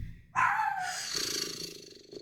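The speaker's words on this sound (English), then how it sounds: "I get really tired of having to listen to that dog while I'm doing these readings" A dog barks outside during an indoor session, one sharp loud bark bursting in after a quiet moment, then a lingering rough growl-like tail fading under low room noise.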